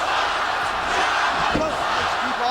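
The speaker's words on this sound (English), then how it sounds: "This crowd is all over Chavo Guerrero early on with a Chavo sucks chance." Wrestling arena crowd at a WWE Unforgiven 2002 match between Rey Mysterio and Chavo Guerrero, a loud steady roar of many voices chanting against Guerrero, dense and continuous throughout.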